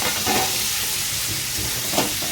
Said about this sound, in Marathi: टॅमॅटो पण आहे ना चांगला फ्राय करून घ्यायचा आहे